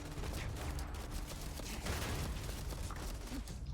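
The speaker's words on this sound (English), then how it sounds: "that was the particle weapons" Particle weapons in the video game Starfield firing as a dense, continuous crackling barrage of rapid shots, steady and loud throughout with no talk.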